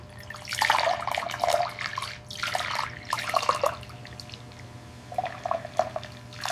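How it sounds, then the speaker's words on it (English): Steamed milk pours into a latte cup for latte art, giving a soft, gurgling liquid stream in uneven bursts, quiet and close. "Pour a bit faster now."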